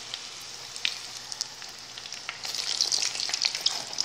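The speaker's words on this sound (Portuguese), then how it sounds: "aí aqui tá fritando" Breaded chicken fillet fries in a pan of oil, a steady close sizzle with small crackling pops that grows louder and busier toward the end, with no voices.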